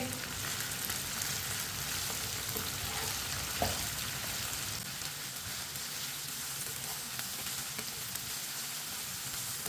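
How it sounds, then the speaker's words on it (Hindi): Chopped okra fries in a pan with a soft, steady sizzle like light rain, fairly quiet and even throughout, with one small clink partway through. "भिंडी को मैंने मिक्स कर लिया है। अब इसे हल्का सा ब्राउन होने तक पका लेंगे।"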